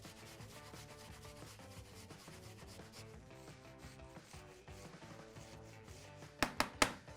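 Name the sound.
grating ginger and garlic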